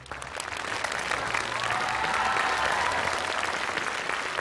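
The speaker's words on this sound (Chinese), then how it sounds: "当然我们也把掌声送给渣渣" Sustained studio audience applause at a televised Chinese comedy class show, steady dense clapping that swells slightly and holds for several seconds with no voices over it.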